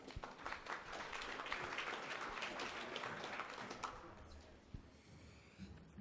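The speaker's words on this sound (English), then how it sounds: "please give him a warm round of applause" An audience claps in welcome as a speaker is introduced at a school communication event, dense sustained applause for several seconds that thins and tapers toward the end.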